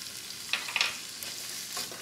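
Jalapeno pepper being stirred into sizzling vegetables in a pan, a steady frying hiss with a few sharp scrapes and clicks of the utensil mid-way.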